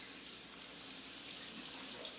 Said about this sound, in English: get your hot water running